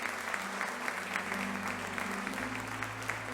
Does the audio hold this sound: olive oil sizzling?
no